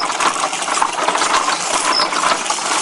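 A hand crank turning a wooden machine with four gears gives a steady, close whirring rattle that runs continuously and fairly loud, with no talk over it.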